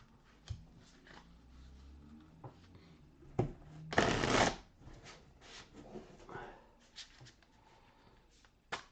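Item cards from the board game Elder Scrolls: Betrayal of the Second Era are riffled and shuffled in a few quick bursts, one loud burst in the middle, with soft handling noises between.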